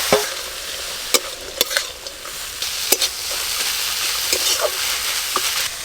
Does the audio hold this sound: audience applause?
no